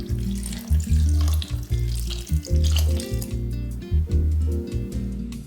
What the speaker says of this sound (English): Pour in enough water to completely cover the cauliflower.